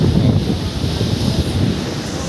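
Strong waves surge onto Coronacion Beach in Real, Quezon, a loud, continuous wash of surf with wind buffeting the microphone and no voices.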